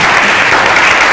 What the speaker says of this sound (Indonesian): kita berikan tepuk tangan untuk kita semuanya